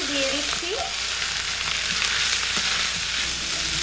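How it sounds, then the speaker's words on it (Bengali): Fried beans, carrots and peas sizzle in hot frying spices for a vegetarian dal, a dense, steady crackle close by with faint stirring clinks and scrapes. "ভেজে রাখা বিন, গাজর, মটরশুঁটি এগুলোকে মশলার মধ্যে দিয়ে দিচ্ছি।"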